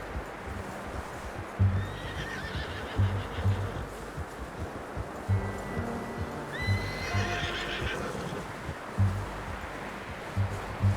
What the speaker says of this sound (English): I'm gonna hitch Taima over here.